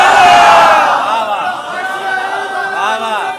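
At a religious milad gathering, a large crowd shouts a slogan in unison, a loud near roar of many voices that swells at once and then tapers into a lingering chant.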